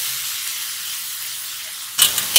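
Carrots and vegetables sizzle steadily in a hot pan for chicken fried rice, with a hissing fry throughout and a few brief clatters of stirring near the end.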